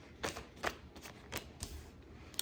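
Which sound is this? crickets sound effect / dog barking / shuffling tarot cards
shuffling tarot cards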